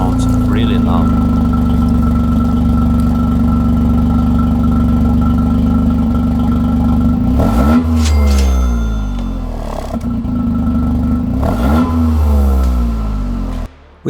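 A Toyota GR Yaris idles with a deep aftermarket exhaust rumble, then revs sharply twice, rising and falling in pitch, loud and close.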